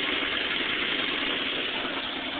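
A Chevy truck engine with a slight oil leak idles loudly and steadily at close range, producing a constant, dense mechanical roar with no change in pitch throughout.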